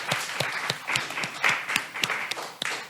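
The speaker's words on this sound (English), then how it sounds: "So let's give them another round of applause since we have both filmmakers here." An audience applauds filmmakers at a Black fine art salon talk in a history museum, a steady wash of clapping from a room-sized crowd with a few sharper claps standing out.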